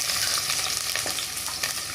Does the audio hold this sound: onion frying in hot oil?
yes